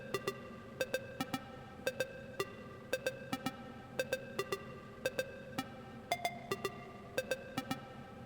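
Synth lead from an amapiano remix, playing alone as a bright, plucky line of short repeated stabs in a steady syncopated rhythm, clear and moderately loud.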